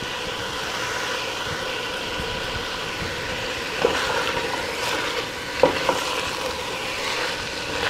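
Chopped onions with a pinch of salt fry steadily in a pan for marinara sauce, giving a continuous even sizzle with a few brief clicks of a utensil.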